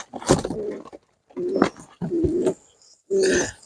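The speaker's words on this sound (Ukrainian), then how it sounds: "Така голубочка." Four bursts of pigeon cooing at a bird show, close by and fairly loud, each a throaty rolling coo separated by short pauses.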